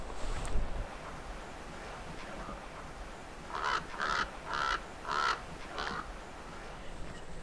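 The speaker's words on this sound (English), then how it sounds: "So we just heard a raven fly over, and they love these rocky cliffs." A raven flies over rocky cliffs in a bluff cedar pine forest, giving a run of about five harsh, croaking calls in quick succession, moderately near above a soft outdoor hush.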